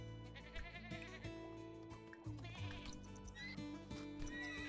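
In a Horse Ranch video game, a billy goat bleats repeatedly in wavering, nasal cries over a soft background of livestock and farm sounds, fairly close with no speech.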